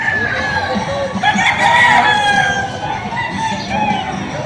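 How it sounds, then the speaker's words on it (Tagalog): Chickens cluck and squawk nearby at a poultry market in Padre Garcia, Batangas, in a busy, overlapping chorus, with a louder burst of calls in the middle. "Yung mga manok dito"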